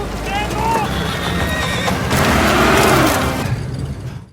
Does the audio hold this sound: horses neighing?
yes